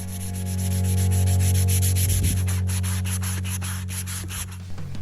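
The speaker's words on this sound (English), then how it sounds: "Now for the final sanding, we're going to be using 320 grit sandpaper to give it a nice smooth final finish." A wooden herb stripper is hand sanded with 320 grit sandpaper, a steady close rubbing hiss that runs without a break, over a constant low hum in the room.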